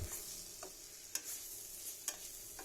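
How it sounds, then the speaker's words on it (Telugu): Green beans frying with chili powder in a pan, a faint steady sizzle with two brief scraping stirs of a spatula, close and quiet. "అలాగే కారంకి సరిపడా కారం పౌడర్ కూడా వేసి ఇంకొకసారి ఫ్రై చేసుకుందామండి"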